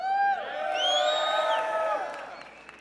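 A convention audience at CitizenCon 2018 in Austin, Texas cheers and whoops loudly, a sustained burst of crowd noise with high yells that slowly fades over a few seconds.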